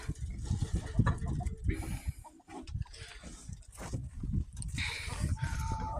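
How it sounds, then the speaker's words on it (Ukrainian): Farmyard animal sounds with chickens clucking among other livestock noises, including Vietnamese pigs, moderately near, mixed with background murmur and occasional voices. "Кури лисі ось тут ходять."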